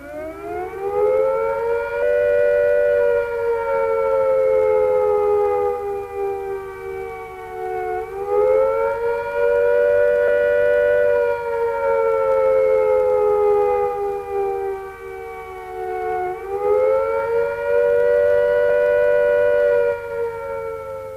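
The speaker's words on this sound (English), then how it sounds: "If attack is imminent, you will hear the attack sound like this." A UK civil defence attack warning siren wails loud and steady, its rising and falling pitch sweeping in slow cycles about every eight seconds, with no other sound over it.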